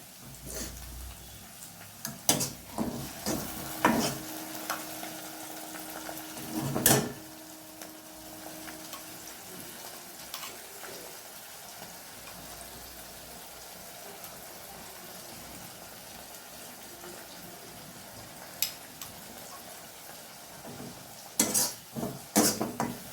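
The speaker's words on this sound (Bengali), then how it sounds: "পেঁয়াজটা হালকা ভাজা হয়ে গেলে আমি এই বাটা পেঁয়াজ আর কাঁচা লঙ্কার পেস্ট দিয়ে দেব" Onion and green chili paste frying in a little oil in a pan, with faint soft sizzling and occasional sharp clinks and scrapes of a spoon stirring against the metal.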